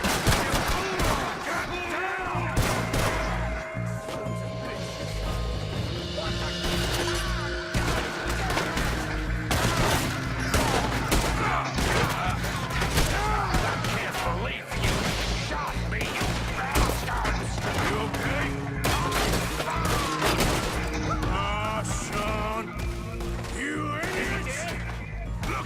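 Gunfire from a Red Dead Redemption 2 gunfight sounds as dense bursts of shots and impacts over a busy music-and-effects bed, with voices now and then.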